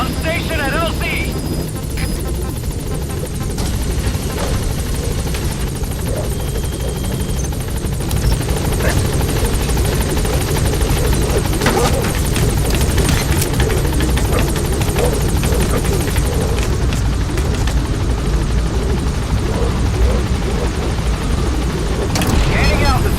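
Helicopter arriving at a landing zone in the video game Metal Gear Solid V: The Phantom Pain, a loud steady rotor thrum and engine whine filling the whole stretch, with radio-style voices over it.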